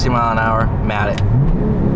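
A 2019 Porsche Turbo accelerates hard at full throttle, its engine note swelling loud and close inside the cabin while a person talks over it.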